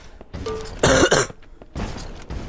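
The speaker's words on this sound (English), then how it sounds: "God, sorry I'm coughing so much." A few harsh, close-up coughs in quick succession, one loud burst in the middle followed by a shorter cough, with quiet gaps between.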